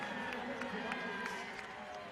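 Basketball arena crowd at a Montana State versus Portland State men's game, roused by a player: a faint, steady roar of massed voices with scattered sharp claps or shouts rising through it.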